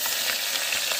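Fish frying in a pan over a village cooking fire, a steady dense hiss and sizzle that stays level and close throughout, with no voices.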